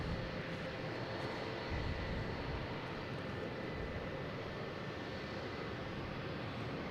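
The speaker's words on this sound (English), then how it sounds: "There's JetBlue heading to St. Martin." A JetBlue airliner flying near Boston Logan Airport, its engines producing a steady, broad roar that stays fairly constant and distant-sounding the whole time.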